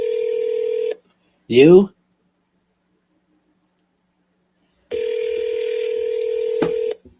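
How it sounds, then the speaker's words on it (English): Telephone keypad tones beep through a dial tone, broken by a short spoken question, then a steady ringback tone returns toward the end. "We're gonna double dial him."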